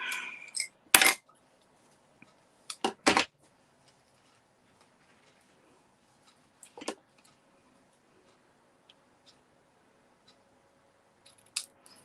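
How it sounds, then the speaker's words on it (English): Several sharp, brief snips of ribbon scissors cutting ribbon close up, scattered with long quiet gaps between them. "Ribbon scissors."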